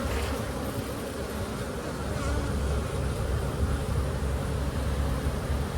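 Honeybees buzzing in an open nuc hive during an inspection, a dense, continuous, close drone of many bees at steady loudness with no talking.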